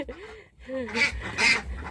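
Nearby laying ducks quack a few times in short nasal bursts amid some rustling and background noise.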